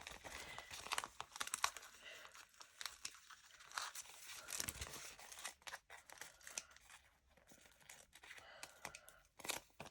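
Scissors snipping shapes into a handmade stencil for gel plate printing, quiet close crisp cuts and papery crinkles coming in irregular bursts with short pauses.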